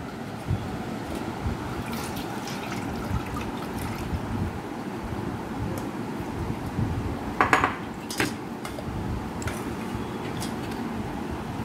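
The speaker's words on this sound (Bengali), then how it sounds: "এই পুরো মিশ্রণটাকে ছাঁকনির সাহায্যে ছেঁকে নেব" A chickpea flour and water batter is strained through a sieve. A soft liquid trickle runs throughout, broken by several close, bright clinks of a metal sieve and utensil against a bowl.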